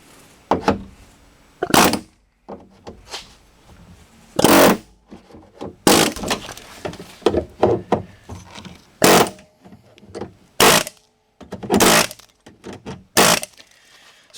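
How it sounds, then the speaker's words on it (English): Loud bursts of an air hammer and chisel removing rivets from a Chevy Blazer door, rattling against metal in short irregular blasts separated by brief pauses and quieter clanks. "I do have an air hammer, and I think I'm just going to use that and a chisel"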